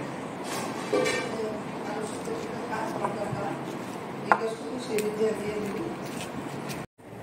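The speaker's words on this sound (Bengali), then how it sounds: "এই যে বন্ধুরা সবজি কেটে নিলাম।" A knife chops vegetables on a board in a home kitchen, making a fast run of close, sharp chopping taps that continue steadily, with a faint voice in the background.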